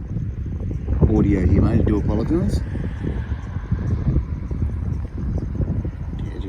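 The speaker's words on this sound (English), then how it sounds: "Yeah, it's fairly windy." Wind buffets a mobile phone microphone outdoors in a park, with a hand cupped around the mic, producing a steady low rumble throughout while someone talks over it.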